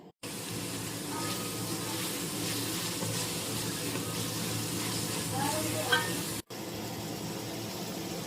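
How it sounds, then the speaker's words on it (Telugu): Onion, tomato and coriander frying in a pan for crab curry, a continuous moderate sizzle with some stirring scrapes, briefly cut off near the end before resuming. "సో ఆనియన్, టొమాటో, కొరియాండర్ అన్నీ వేసి ఫ్రై చేసేసుకోవడమే"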